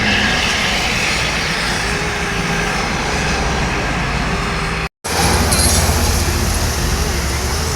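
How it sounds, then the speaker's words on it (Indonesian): A bus passes on a road near the Alang Lebar terminal in a steady, loud engine and traffic roar that lasts throughout. The sound cuts out for a split second midway, then picks up again slightly louder. "Ada penampakan bus dari arah terminal Alang Lebar."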